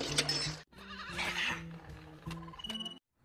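Sheep bleat in a flock, several wavering cries overlapping one another at moderate distance over a busy background.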